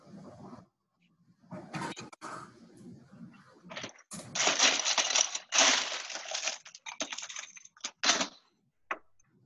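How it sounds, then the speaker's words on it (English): Ice cube dropped into a cocktail glass while mixing a gin drink, giving a run of sharp clinks and crackling knocks over several seconds, close and fairly loud, with no talk. "we've got a ice cube in our glass again"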